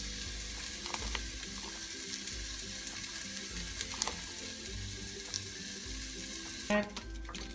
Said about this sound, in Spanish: Voy a agregar el chayote.